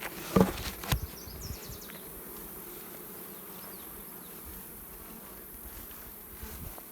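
Honey bees buzz faintly and steadily around full beehives outdoors, with a couple of brief louder knocks near the start and a low continuous insect hum throughout.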